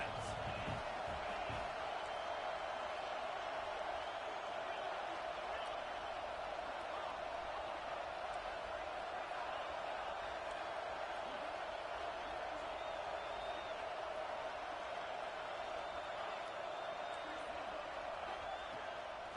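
Crowd noise from an American football video game, a steady distant roar of fans rallying behind the defense on a big third down, with a few sharp thumps near the start and faint whistles and shouts.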